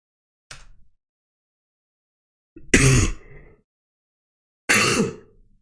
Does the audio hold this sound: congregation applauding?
no